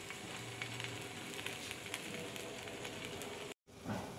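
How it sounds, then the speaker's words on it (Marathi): Pizza paratha crisping in hot oil on a pan over a high flame gives a steady, close sizzle that runs unbroken for several seconds before a brief cut, with no voices. "आणि याला छान आपण शेकून घ्यायचं क्रिस्पी होईपर्यंत"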